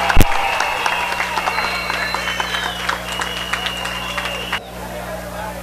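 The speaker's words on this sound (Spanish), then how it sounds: "Un aplauso para todas las delegaciones" Audience applause for the delegations at a Colombian festival event, dense steady clapping from a crowd with a sustained music or tone bed underneath, cutting off sharply near the end.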